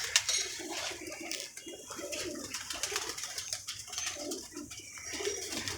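Pigeons at a bird seller's coop coo continuously in soft, rolling, overlapping calls, close and moderately loud, with light rustling in the background.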